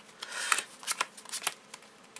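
A deck of Yu-Gi-Oh! trading cards is shuffled by hand in quick riffling bursts, close and crisp, with several rapid flicks and no talking.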